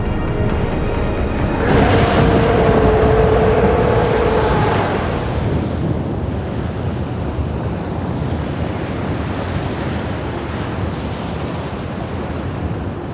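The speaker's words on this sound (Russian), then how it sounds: "И вот это море сегодня с этим ветром, с небольшим штормом." Stormy sea on a windy day on the Turkish coast: loud crashing surf and a steady roar of strong wind buffeting the microphone. A big wave surges early, then the rumble settles into a constant wash, with no voices.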